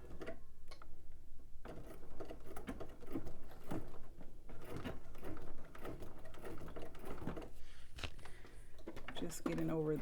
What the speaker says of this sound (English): let's head over to the machine and baste down our zipper